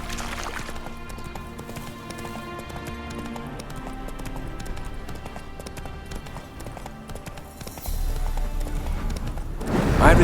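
Hooves of Roach, Geralt's horse, clip-clop at a run across the whole stretch in The Witcher 3: Wild Hunt, a steady galloping rhythm under game music, growing louder near the end.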